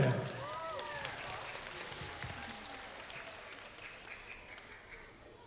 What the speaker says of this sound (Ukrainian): українська вишиванка та Хаят, ваші аплодисменти!